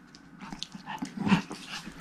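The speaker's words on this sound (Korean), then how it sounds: "왜 으르렁거려?" A tiny Pomeranian puppy growls and yips close by, a string of short rough grumbles and little squeaky bursts in an indoor room, with no talking.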